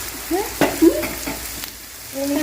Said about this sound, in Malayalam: നമ്മൾ സബോള ഇട്ടതിന് ശേഷം ശകല ഉപ്പ് ഇതിനകത്തോട്ട് ഇട്ടാൽ മതി സബോള പെട്ടെന്ന് വഴങ്ങി